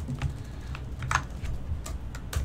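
Someone types on a computer keyboard during an EVGA livestream, producing a steady patter of quiet, irregular key clicks over a low background hum with no speech.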